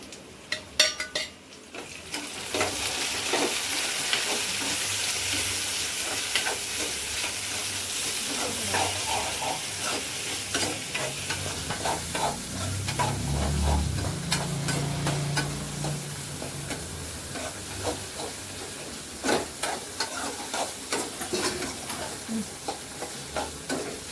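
Tomatoes being stir-fried for pepper chicken in a home kitchen, a steady close sizzle of frying with a spoon repeatedly scraping and clinking against the pan throughout, no talking.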